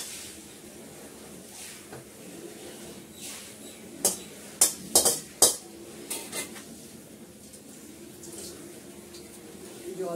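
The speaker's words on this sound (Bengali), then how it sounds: "জল দিয়ে কড়াটা ধুয়ে দিই।" Water runs during the washing of a wok (kadai) in a home kitchen, a soft steady wash with a quick burst of metallic clanks and scrapes midway.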